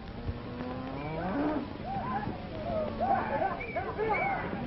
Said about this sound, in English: get those cattle back